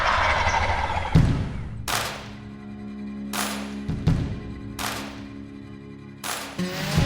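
A wild turkey gobbles repeatedly outdoors, with about five loud, sharp rattling calls spaced a second or two apart, each trailing a short echo.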